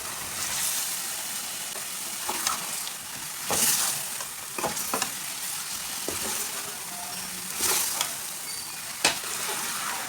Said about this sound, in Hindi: आलूओं को डाल के 2-3 मिनट तक दोबारा भून लेंगे।